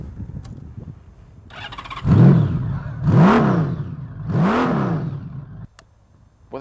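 A motorcycle fitted with aftermarket, non-standard exhaust pipes revs hard three times in quick succession, each loud rising-and-falling blip close by, then drops back to a quiet idle.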